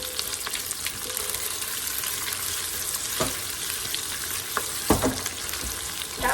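Chopped onion dropped into hot oil in a pan on a home stove, sizzling and spattering with a dense crackle and a few sharp pops and stirring scrapes, no talking.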